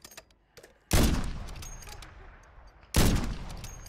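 In an online shooter, two loud, close gunshots ring out about two seconds apart, each with a long decaying echo, after some faint clicks.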